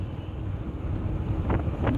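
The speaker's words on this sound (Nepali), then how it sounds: "फेरि हावा चल्यो हुहु आउँछ" Strong wind buffets the microphone during a hot, windy motorcycle ride through the Kathmandu Valley, a loud continuous low roar with gusting swells and no speech.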